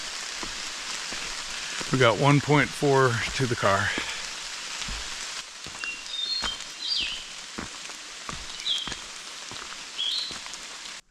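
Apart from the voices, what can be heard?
rain falling on a hiking trail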